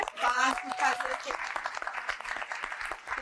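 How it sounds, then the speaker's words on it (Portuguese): Audience applause for Lúcia at a gathering rises in bursts of clapping from a room of people. Voices and talk overlap the clapping, and it stays fairly close and moderately loud. "uma salva de palmas especial para a Lúcia"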